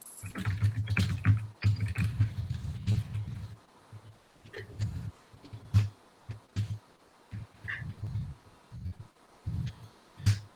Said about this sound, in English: So I'm going to type those book in the chat.